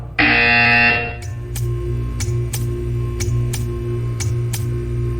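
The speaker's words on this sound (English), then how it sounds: "You will hear a buzzer." A loud, harsh electronic buzzer from the video game Portal 2 blares for about a second, followed by evenly spaced ticking clicks over a steady low hum.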